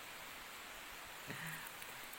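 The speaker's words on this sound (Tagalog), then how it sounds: "Patitilain lang natin yung ulan" Soft, steady wash of rain, fairly faint and even, with a brief muffled thump partway through.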